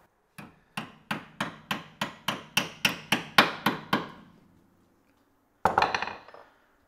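A series of about eleven evenly spaced metallic taps, steady and close, seats a brake line fitting on a C3 Corvette disc brake setup, followed after a pause by a brief rattling clatter of metal.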